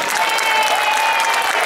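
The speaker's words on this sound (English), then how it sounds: "Give it a applause." Applause from an audience of Grenadians at Brooklyn College, a dense, even clatter of many hands sustained through the whole moment, with a faint tone ringing beneath.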